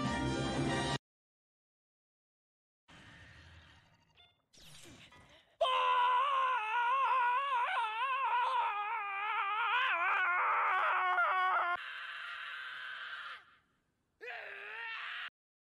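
A drawn-out wailing scream in bursts, like Mom Crow's, high and wavering with long sustained stretches separated by short silences, loud and close.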